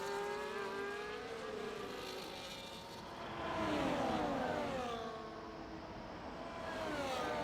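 Formula-style race cars in a racing game scream past, a McLaren among them, their high engine notes rising and falling as they overtake, steady and fairly loud with no talk over them.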